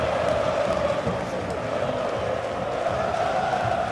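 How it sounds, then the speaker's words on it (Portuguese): Corinthians supporters at a Brazilian Championship football match roaring and chanting in celebration of a win, a dense, steady stadium crowd noise with voices talking over it. "Torcida corintiana comemorando mais uma vitória do Corinthians neste Campeonato Brasileiro"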